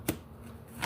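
Tarot cards slid out of a deck during a reading, two quick, soft papery snaps separated by a short pause, close and faint with no talking.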